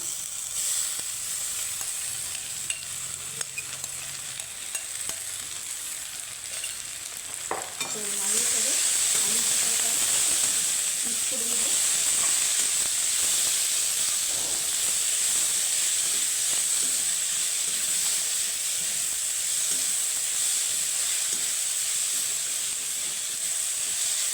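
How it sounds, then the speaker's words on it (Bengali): Marinated potato peels are tipped into hot oil; a quiet fry swells into a loud, steady hissing sizzle that runs on throughout, with some stirring scrapes near the start. "এখন দিয়ে দিব আগের থেকে ম্যারিনেট করা আলু খোসা"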